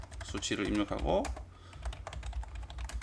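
Clicky computer keyboard keystrokes, including the Enter key, tapping in an irregular rhythm while using AutoCAD, close and fairly loud, with a few quicker presses clustered early on.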